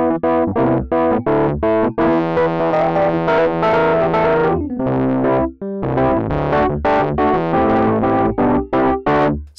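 Chords on a gnarly, overdriven Rhodes electric piano ring out loud and crunchy, played in short stabs with a few longer sustained passages.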